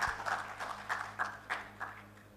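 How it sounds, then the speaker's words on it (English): An audience at a project management symposium and forum claps faintly, a handful of soft, scattered claps landing in a loose repeating rhythm against a quiet hall hum. "Please clap once so that we can hear you all."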